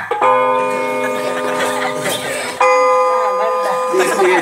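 A school recess bell is struck twice, each strike ringing out with long, bright sustained tones; the second hit near the middle renews the loud ringing.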